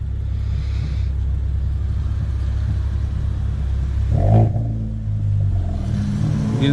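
Hyundai Veloster N with a catted downpipe, a deep rumbling idle that swells into a sharp rev with a growling rise partway through, loud and close, no voices.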